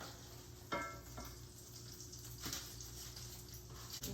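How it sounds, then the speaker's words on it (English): Salmon fish cakes pan fry with a soft, steady sizzle, fairly faint and close, broken by a few brief louder clatters or pops. "We're gonna pan fry them a little bit."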